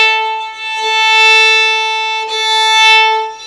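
A steady bowed violin tone on a single string, sustained and smooth with a brief bow change in the middle.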